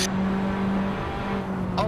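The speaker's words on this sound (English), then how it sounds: "Wait, you have new sounds of the car, Marcel?" Go-kart engine in the Assetto Corsa racing sim on the Nordschleife, a steady droning hum running throughout at even loudness, with a person talking over it.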